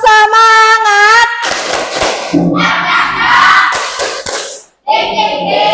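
Students at SMPN 5 Curug perform a rhythmic spirit clap, sharp claps in quick patterns mixed with loud group chanting and shouting, close and energetic, with a short pause near the end before clapping resumes.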